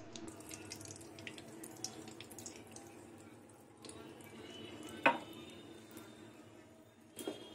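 Mustard oil trickles from a bottle into a pan in a home kitchen, a faint liquid pouring and dripping sound with small clinks, quiet and close.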